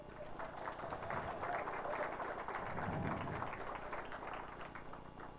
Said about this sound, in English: I think you deserve a big clap from the audience